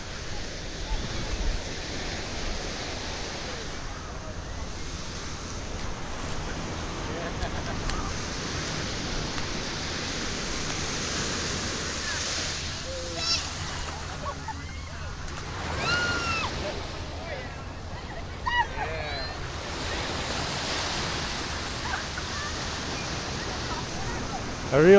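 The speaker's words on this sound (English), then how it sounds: "The Pacific Ocean." Pacific Ocean waves and surf wash steadily along the shore as a broad continuous roar with gentle swells. Voices talk nearby over the surf.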